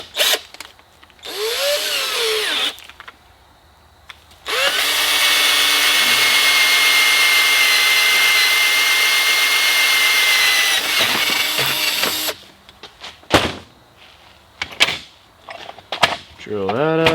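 A power drill bores out a hole with an 11/64 bit for mounting a catch can, running as one long, loud, steady whine for several seconds, with shorter bursts and clanks before and after and some talk around it.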